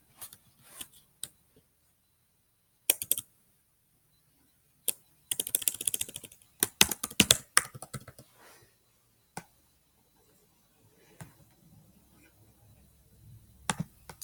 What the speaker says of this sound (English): So Ogletree is what I'm going to write over here.